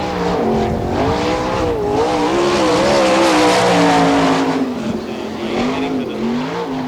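Sprint race car engines firing up at a Florida dirt speedway during an All Star Circuit of Champions event, a loud continuous roar with rising and falling pitch as the cars rev and pull away, no voices over it.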